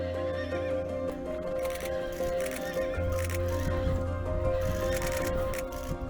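Karabakh horses, an ancient Caucasus breed, neigh and whinny repeatedly at close range while hooves clip-clop steadily beneath the calls.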